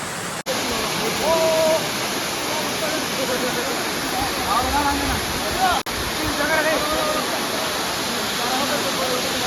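Steady broadband rush of Kookal waterfall near Poombarai in Kodaikanal, a continuous loud roar of falling water filling the whole stretch, with faint voices briefly audible beneath it.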